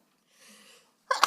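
A person sneezes during a county commission meeting, with a soft intake of breath followed by a short, sharp burst.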